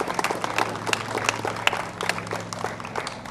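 An outdoor audience at a zero-waste event gives a short burst of scattered clapping, moderately loud with individual claps standing out, and no voices on top.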